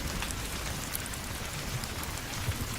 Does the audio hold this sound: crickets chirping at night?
no